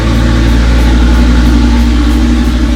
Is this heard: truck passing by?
yes